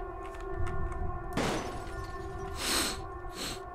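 A powerful gun fires in the Hello Neighbor video game, about three sharp blasts with the first the hardest, each a burst of noise that fades quickly, set against a steady droning game tone.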